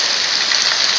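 Heavy rain falling in the street, a loud, steady, dense hiss of drops striking the ground with no pauses and no voices.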